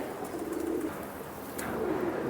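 Pigeons coo softly in a loft kept by a Jammu pigeon fancier, low murmuring calls repeating steadily over a faint ambient hum, close by and without speech.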